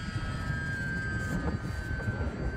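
E-flite UMX Pitts S-1S model airplane held at full throttle in flight, a steady high-pitched electric motor whine with a constant tone, moderately distant over faint wind noise.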